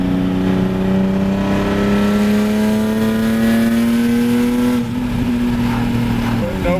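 A BMW E46 325ci engine holds a steady high idle with a loud, continuous drone whose pitch creeps slightly upward, then dips briefly near the end before settling again, sounding close and alone.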